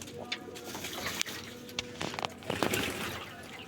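Pigeons cooing on a hot day, soft bird calls with a few sharp clicks and splashy bursts, fairly close and moderately quiet.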